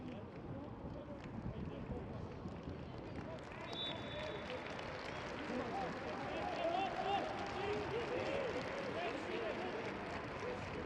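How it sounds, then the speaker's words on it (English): A crowd applauds Bolton Wanderers' goal scorer Neil Grau during a football match against Solihull Moors, a broad, steady roar of clapping and stadium noise that swells slightly while a voice keeps talking over it. "And the round of applause goes up for Bolton's goal scorer,"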